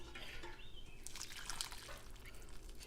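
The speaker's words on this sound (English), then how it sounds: "We're gonna pour some hot water in it." Hot water is poured onto miso paste in a bowl for a ramen kit broth, with a soft, continuous liquid trickle and splash at close range and no talking.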